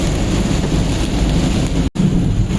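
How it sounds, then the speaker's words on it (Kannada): Heavy rain hammers a moving car in a steady, loud wash of hiss and drumming, broken by one brief dropout before the downpour resumes at full strength. "ಜೋರಿದೆ ಮಳೆ."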